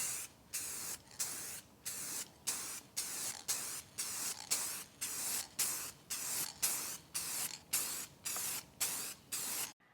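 An aerosol can sprays clear UV protectant coat onto Land Rover LR3 headlights in about twenty evenly spaced hissing bursts, each roughly a third of a second with short gaps, steady and close with no talk.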